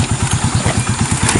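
A motorcycle engine idles close by with a steady, rapid chugging pulse.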